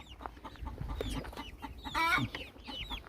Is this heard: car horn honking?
no